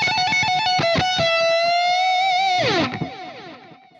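Distorted electric guitar lead through a screaming Mesa Boogie amp with heavy delay and no wah, modelled on a Fractal unit: loud sustained singing notes, a quick run of picked notes, then a bend that trails off into repeating echoes.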